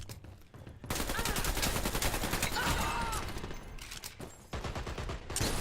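Rapid bursts of machine pistol fire in the video game Dirty Bomb, loud and close, rattling almost continuously over a busy battle backdrop.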